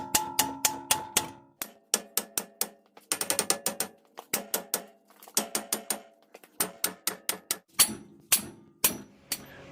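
A hammer repeatedly strikes a rusty hub bearing on a 2011-or-later Honda Pilot, sharp metallic blows in quick irregular bursts, some rapid flurries and some slower spaced hits, loud and close.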